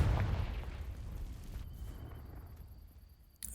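Confringo spell blast setting dry vines alight in Hogwarts Legacy, a deep booming burst at the start that fades into a low crackling rumble, ending with a short sharp pop.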